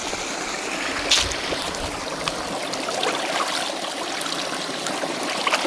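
Water from the Kumbakkarai waterfall in Theni, running low, flows steadily as a broad, even rushing wash with no voices.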